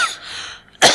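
A single short, sharp cough bursts out near the end after a brief pause, loud and close, with no talk alongside.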